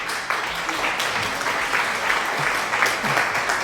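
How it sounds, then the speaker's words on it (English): Steady applause from a small crowd, continuous clapping throughout with a slight swell toward the end. "a round of applause for Master Nilla because he wins."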